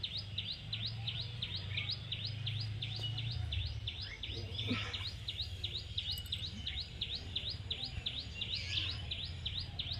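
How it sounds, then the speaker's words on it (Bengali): Birds chirp outdoors in a quick, evenly repeated series of high, sharp calls that carries on for about ten seconds over faint low background noise. "কি সুন্দর পাখির আওয়াজ দেখো টিক টিক করছে কেমন"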